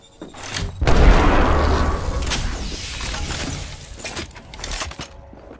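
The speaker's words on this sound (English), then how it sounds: "Look out! Grenade!" A grenade explodes in the video game Apex Legends, a loud, close blast with a shattering, debris-like roar that swells after a brief lead-in, then slowly decays with a few trailing clanks.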